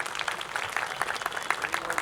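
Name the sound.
audience clapping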